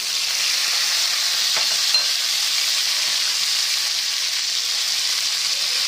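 Onion frying in a pan while being stirred, a steady, loud broadband sizzle running throughout with a faint scrape of the spoon near the middle.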